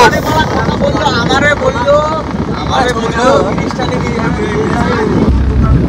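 Private tour boat cruising a river in the Sundarbans: a steady low engine drone with strong wind buffeting the microphone, while people talk excitedly close by over the noise.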